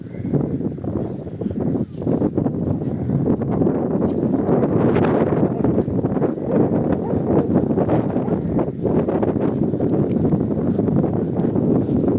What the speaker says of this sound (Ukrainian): погода дуже і дуже вітряна